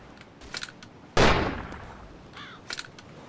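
Gunshots in the ARMA 2 DayZ mod game: one loud, close blast stands out among a few fainter, sharper shots and clicks scattered before and after it.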